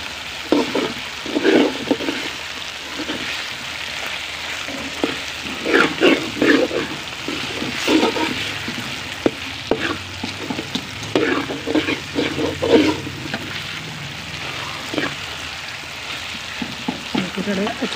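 Cumin seeds and potatoes frying in a pan for a quick curry, a steady close sizzle broken by frequent scraping and stirring clatter, no talk.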